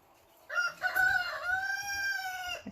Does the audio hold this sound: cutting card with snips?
no